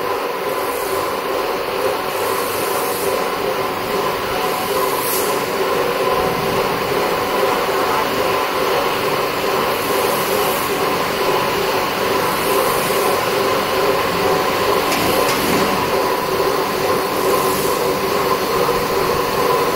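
An aluminum alloy wire drawing and threading line runs steadily, giving a loud, constant mechanical hum and whir with faint periodic swells, with no voices over it.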